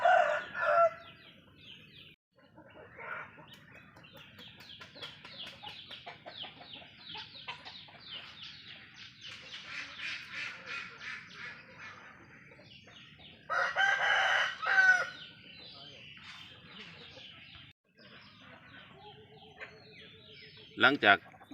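Chickens cluck steadily with a rooster crowing loudly a couple of times, close by, outdoors on a small farm in the morning with some quiet talk in between.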